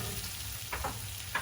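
Meat sizzles steadily in a pot while making lentil stew, a soft continuous frying hiss with a couple of brief stirring scrapes.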